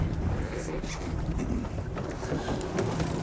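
A fishing boat's engine runs steadily in strong wind, with a low, continuous rumble and gusty noise across the whole stretch and no talk.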